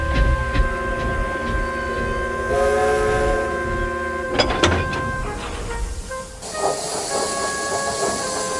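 A steam engine hisses and chuffs as it backs into a station, with steady tonal hum, bursts of steam hiss and a couple of sharp clanks, fairly close and continuous.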